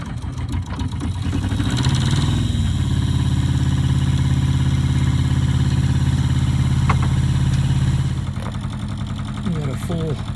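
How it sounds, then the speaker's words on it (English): A sailboat engine cranks, catches and settles into a steady, loud mechanical idle for several seconds before easing off, with brief voices and small clicks near the end. "Try to start up the engine and warm it up."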